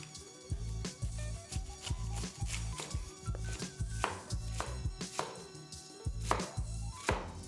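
A knife chopping through cabbage to cut out the core, a steady series of firm thuds on a cutting board, close and fairly quiet, in a regular rhythm with no talk.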